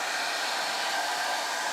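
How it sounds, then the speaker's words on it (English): Powerful hair dryer running on its top setting at about 2170 watts: a loud, steady, broadband fan-and-air whoosh with an even hiss, close and continuous with no speech. "So here first, a hairdryer, very powerful, common item."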